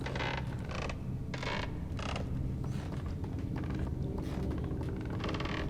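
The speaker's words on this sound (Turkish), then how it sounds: "Abi ne gıcırtı yaptın ya." Creaking in the video game Little Nightmares, a low grinding creak with a mechanical rumble beneath it that drags on steadily and stays close.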